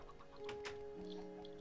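Chickens cluck in a Super Hostile Infernal Sky modded game, where they sit stuck in a fence; a few short, clipped clucks sound over a steady tonal game hum.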